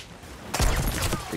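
A sudden loud boom of ship cannon fire in a video game erupts after a quiet moment, followed by rumbling, crackling echoes.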